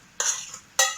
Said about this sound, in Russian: И хорошенько перемешиваем.